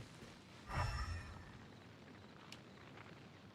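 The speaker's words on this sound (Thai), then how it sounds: "มันคือปฏิกิริยาโอเวอร์โหลดนะครับไฟกับไฟฟ้าเจอกันก็เกิดการระเบิด" An Overloaded reaction explodes in the video game Genshin Impact, where fire meets electro: one short, muffled boom with a crackling burst, fairly faint, fading into a quiet background.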